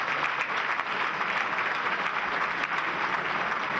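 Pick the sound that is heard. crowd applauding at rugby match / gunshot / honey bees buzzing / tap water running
crowd applauding at rugby match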